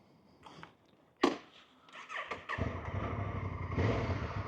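A 2024 Honda Africa Twin motorcycle engine rumbles up after a sharp knock, its steady low drone building loud and close and holding to the end.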